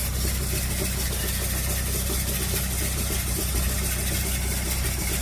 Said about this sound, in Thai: รถไถใช้อันนี้นะครับผม